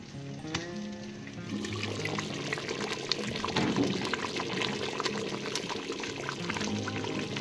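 A covered pot of unripe plantain porridge cooks steadily, giving a continuous bubbling, simmering hiss with small pops throughout, moderately quiet, and no voices are heard.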